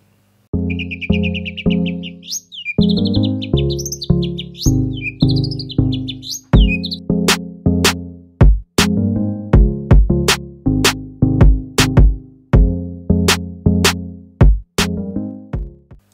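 A white-rumped shama sings a long, varied song of rich melodic phrases and sharp whistled notes, loud and close, with a high twittering passage early on.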